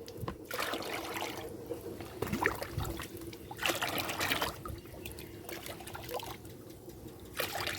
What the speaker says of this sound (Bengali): এই জলটা কিন্তু প্রত্যেকটা গাছে কিন্তু আমি এক মগ করে আমি প্রয়োগ করব